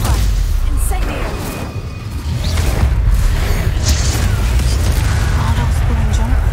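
A fire spell is cast in Hogwarts Legacy, a heavy booming blast over low, rumbling game combat noise that runs steadily throughout, with scattered bursts and clanks layered on top.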